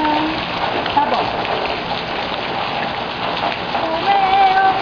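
Steady rain pours down in a dense, constant hiss that stays even throughout, with faint tonal sounds rising near the end.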